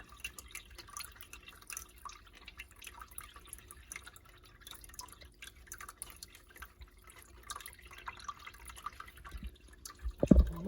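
Water drips through an AeroGarden filter in faint, scattered drips over a quiet background, with a louder knock at the end.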